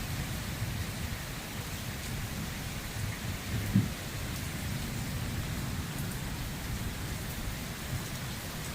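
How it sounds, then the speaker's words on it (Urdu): Heavy nighttime rain during a cloudburst in Pothwar pours in a dense, steady hiss, with low rumbling thunder rolling underneath and a brief louder crack partway through. "یہ بارش جو ہے وہ اسی طرح چل رہی ہے، اور گرج چمک جو ہے اسی طرح"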